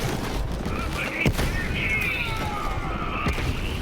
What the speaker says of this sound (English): the chunkiness of this shotgun is incredible